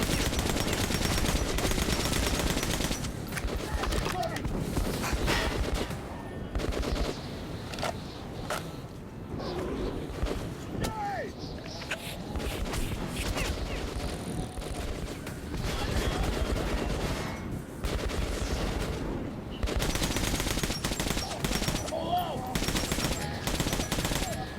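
Bursts of rapid gunfire from Metro 2033 Redux rattle loudly in heavy clusters, easing in the middle stretch and swelling again near the end, with a dense background of combat noise.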